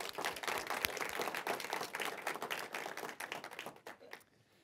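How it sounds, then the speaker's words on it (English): Audience applause for the judges at a university Three Minute Thesis competition, a close, lively patter of clapping hands that tapers off and fades to quiet in the final second. "Please give the judges a round of applause."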